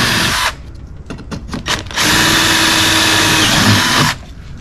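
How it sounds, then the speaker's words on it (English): A power drill bores through pre-drilled holes in composite rear wheel-arch spats on a Vauxhall Corsa E VXR, loud and close: a short burst, a few choppy stop-start pulses, then a longer steady whine that cuts off. "you want to drill through the pre-drilled holes in the spats"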